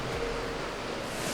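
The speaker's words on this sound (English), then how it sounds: "And there's a waterfall here. We hit rapids." Water rushes steadily through rapids and a waterfall inside a cave in Laos, a dense and loud continuous roar with no voices over it.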